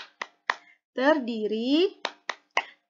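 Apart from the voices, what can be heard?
rhythmic clapping of the Al-Fatihah identity clap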